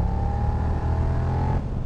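Suzuki SV650 X motorcycle engine held near 3500 rpm while riding, a steady loud throbbing drone with wind rush and no speech.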